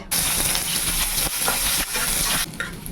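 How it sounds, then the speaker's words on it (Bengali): Onions sizzle in hot oil in a wok seasoned with cinnamon, bay leaves and cumin, for a jackfruit dish. The sizzle is close and loud, with stirring scrapes, and it eases off near the end. "তেলটা হয়ে গেলে এতে দেব পেঁয়াজ"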